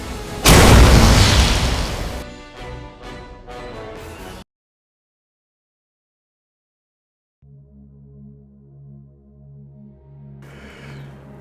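A loud booming hand cannon shot, Tarren's cannon in Destiny lore, bursts in close and decays over a few seconds, followed by silence and then a low sustained tonal drone.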